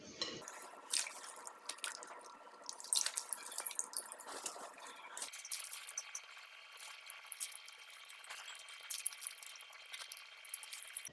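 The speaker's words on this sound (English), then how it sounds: "I'm going to put the cabbages in clean water to shake off the salt." Salted whole cabbages are rinsed in a basin of clean water for kimchi, with soft, close splashing and dripping that is irregular and quiet, and no talking.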